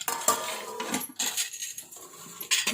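A metal lid clanks onto a cooking pot of bhagar, a fasting dish of barnyard millet, with a few close clinks and rattles of metal on metal.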